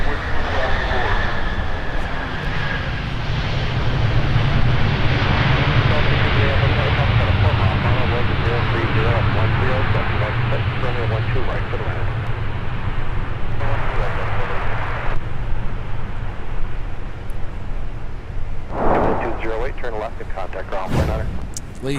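An airliner powers up and rolls for takeoff on runway 12 Right at MSP airport, a loud sustained jet roar that swells and then fades, with radio chatter from air traffic control mixed in.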